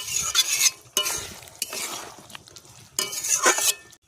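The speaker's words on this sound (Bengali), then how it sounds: "আলু দিয়ে আরও কিছু সময় ভালো করে কষিয়ে নেব" Chicken and potatoes being stirred and sautéed for chicken kosha, with close scraping spoon strokes and clinks in bursts against a pan and a faint sizzle underneath, no voices.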